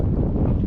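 Strong wind buffets the microphone outdoors beside a lake dock, a loud continuous low rumble with no other sounds standing out.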